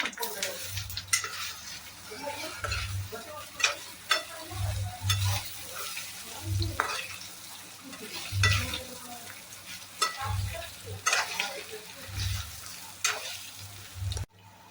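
Patra, rolled colocasia leaf slices, frying and being stirred in a pan: a steady oily sizzle with repeated scraping and soft clanks of the spoon against the pan at irregular intervals.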